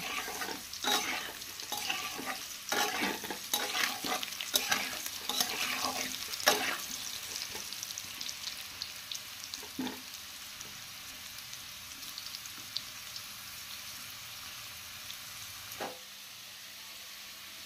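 Salted eggplant pieces frying in oil, sizzling under busy spatula stirring and scraping for the first several seconds, then a quieter steady fry with a couple of isolated knocks.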